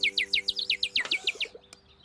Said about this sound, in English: The little bird! It came back!